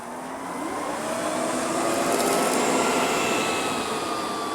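An Ecovacs Deebot M81Pro robot vacuum makes a second pass over crumbs, a steady close whirring drone of motor and suction running continuously with slight swells, no voices.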